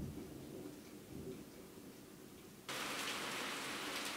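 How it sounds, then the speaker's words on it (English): Hail pelting down during a storm, with a rumble of thunder under a steady roar of falling ice and rain that suddenly grows much louder and brighter partway through. "man, it's just started hailing."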